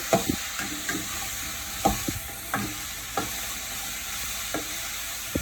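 Onions are stirred into a frying pan for a dried-prawn gravy, with steady sizzling close by and repeated sharp spoon scrapes and taps against the pan at irregular intervals.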